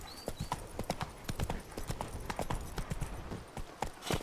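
Roach the horse gallops in The Witcher 3, quick hoofbeats clip-clopping in a brisk, steady rhythm, close and fairly loud.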